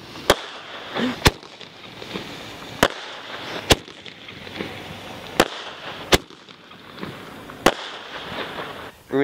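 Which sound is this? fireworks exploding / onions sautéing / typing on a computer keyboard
fireworks exploding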